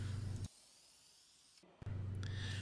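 Lacquer sprayed from an aerosol can onto a solid cherry wood bookcase in a workshop, heard as two close, hissing bursts separated by a quieter pause.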